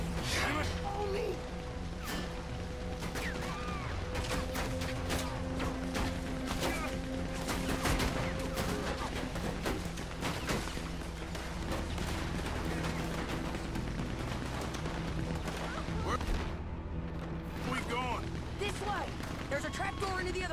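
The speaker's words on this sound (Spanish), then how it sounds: "Anda con una ametralladora, viejo." Machine gun fire in Red Dead Redemption 2, rapid bursts of gunshots crackling through a dense game mix with music and effects, while players talk over it throughout.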